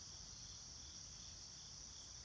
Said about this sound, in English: low level of like giant cricket noise or something going on back here